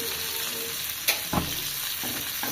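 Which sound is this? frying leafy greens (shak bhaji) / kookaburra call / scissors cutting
frying leafy greens (shak bhaji)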